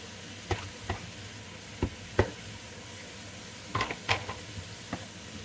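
Cabbage sautéing in a pan with pork and shrimp, with a continuous low sizzle broken by scattered sharp scrapes and taps from stirring, with no talking.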